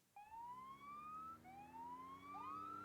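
Police car sirens wail in a BeamNG.drive racing game, a clear rising and falling electronic tone that sweeps up, drops, then climbs again, steady and fairly close with no voices over it.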